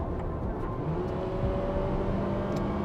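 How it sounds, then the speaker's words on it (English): A Mitsubishi Xpander 1.5 engine pulls hard at full throttle from inside the cabin, a steady loud drone with rising tone as revs climb, with no talk over it. "Full throttle. The transmission is very quick to react, it's very eager to hold up a higher rev."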